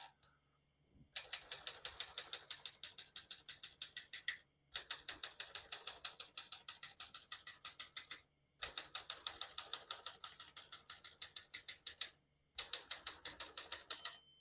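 Rapid, even keystrokes of a 1957 Smith-Corona Skyriter portable mechanical typewriter in four bursts separated by short pauses, crisp and close with no voices.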